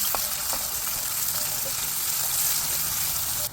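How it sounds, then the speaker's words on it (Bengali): Onion frying in hot oil in a frying pan, the first step of a fish curry, gives a steady, close hiss and sizzle with soft crackles throughout, with no talking over it. "এই যে পেঁয়াজটা ভাজা হচ্ছে"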